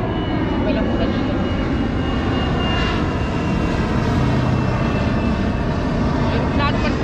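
A propeller airplane drones overhead as a steady, loud, broad engine rumble with a faint whine that holds for the full stretch, heard outdoors while taking a break from a bike ride.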